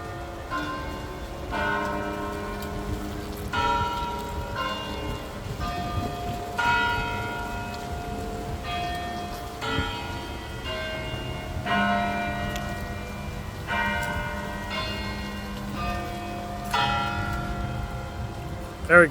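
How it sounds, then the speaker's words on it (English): Church bells chime at the First Church in Fairfield, Connecticut, a slow series of ringing strikes with long overlapping decays, sounding clearly at moderate distance over the whole stretch. "Got the chimes going on."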